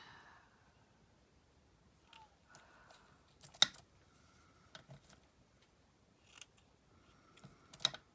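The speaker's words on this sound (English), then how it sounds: "So trim this off just a tad." Scissors trim paper for a nature journal in a few short, crisp snips, spaced irregularly with quiet pauses between, close and fairly soft with no talk.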